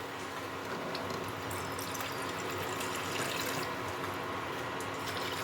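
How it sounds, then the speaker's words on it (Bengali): Water from rinsing a bowl that held tomato paste pours into a kofta curry of raw plantain, a steady splashing, liquid rush with faint drips and bubbling, constant and close throughout, with no speech. "টমেটো বাটা ওর বাটি ধোয়া জলটা দিয়ে দিচ্ছি।"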